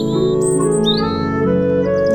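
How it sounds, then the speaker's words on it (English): A nightingale sings in a children's storybook musical, its bright whistled phrases and chirps rising over a sustained backing of held musical tones, loud and close throughout. "What a beautiful song. What kind of bird is that? It's a nightingale, sir."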